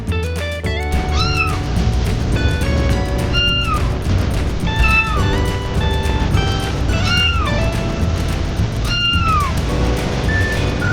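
Cartoon kitten meowing and crying repeatedly amid a burning house, several rising, wailing meows spaced a couple of seconds apart over a steady, busy background of music and noise.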